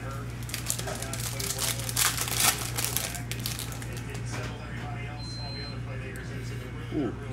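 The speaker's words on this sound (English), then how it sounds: "Man, let's rip the pack." A 2021 Prizm Baseball hobby card pack is ripped open, with loud, close foil crinkling and tearing for a few seconds before it settles into a quieter steady hum.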